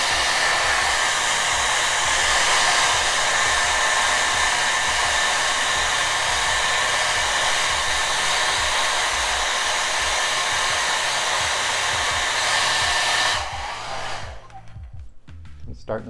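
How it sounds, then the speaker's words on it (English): A hair dryer blows loudly and steadily at close range on a 3D-printed PLA part to heat and soften it, a constant broadband whoosh with a faint whine, then shuts off near the end, leaving quieter handling sounds. "I'm going to blow the hairdryer right at it"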